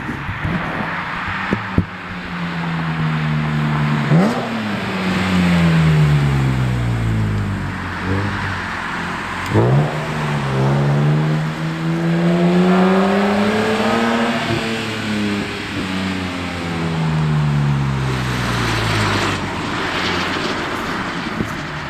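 A BMW M3 with an SMG gearbox revs hard and drives past, its engine note climbing and dropping through several gear changes, loud and close, with no talk over it.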